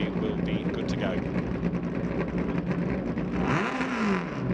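MRF2000 single-seater race car engines idle and rev on the grid before a formation lap, a busy mechanical drone that swells near the end beneath a commentator's voice.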